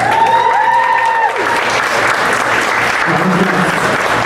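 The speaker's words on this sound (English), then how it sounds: "Another round of applause to Danielle." Steady applause from a concert audience at a Broadway golden-era singers' show, loud and continuous for several seconds. A voice rises over the clapping at the start.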